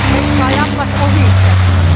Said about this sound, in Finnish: Tuo menee niin hienosti tuo kadetti.